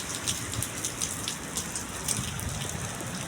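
Steady rain pours outdoors in Pasay near a mall, a dense, even hiss of drops hitting the ground and surfaces, with no voices.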